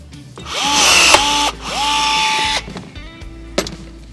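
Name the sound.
rivet gun setting a rivet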